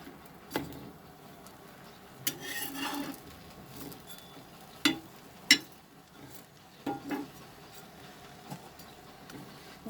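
Cheese toast frying on a tawa, faint soft sizzling with occasional sharp clicks and scrapes of a spatula against the pan, quiet and close.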